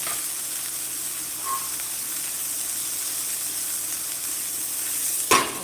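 A steak searing in a hot pan gives a steady, even sizzle and hiss throughout, with a brief clatter near the end.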